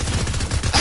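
Rapid gunfire from a Fortnite match, a dense burst of repeated shots packed into under a second, loud and close with no talking.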